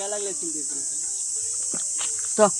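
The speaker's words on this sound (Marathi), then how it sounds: "रातकिड्यांचा आवाज आहे ना अजून पण भरपूर आहे" Crickets chirp in a continuous, high, steady drone in a village forest, with a brief voice and a few soft rustles over the top.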